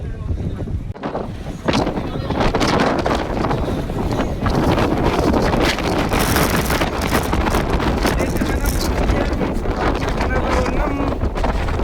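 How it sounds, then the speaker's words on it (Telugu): Strong wind roars continuously and buffets the microphone at an outdoor public meeting site, a loud, dense rush with gusty bursts and faint voices underneath. "గాలి దుందారం గట్టిగా వస్తుంది."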